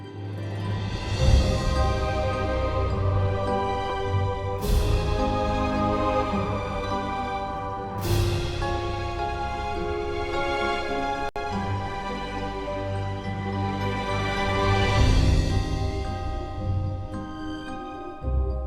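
Full orchestra swells with rushing woodwind runs, booming timpani and crashing cymbals at intervals, building in waves without any talking.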